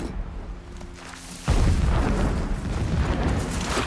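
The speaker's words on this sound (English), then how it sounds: "Explosions in the distance." In Horizon Zero Dawn, a deep, muffled boom of distant explosions erupts suddenly and then rolls into a sustained low rumble that lingers.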